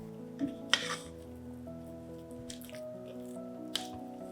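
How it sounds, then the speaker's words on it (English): A rubber spatula mixes mascarpone, icing sugar and vanilla in a bowl, making soft, sparse squishing and wet smacking sounds that are faint and close. No one speaks. "Mix mascarpone, icing sugar and vanilla in a bowl with a rubber spatula."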